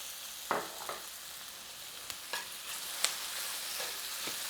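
Ready onions in a pan sizzle softly as oil is added, a steady frying hiss broken by a few sharp clicks and scrapes of stirring.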